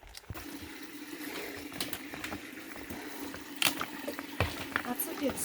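Water flows at a stream source along a wilderness stretch of the Appalachian Trail in Maine, a steady moderate burble running throughout with a few sharper splashes and people's voices at times over it.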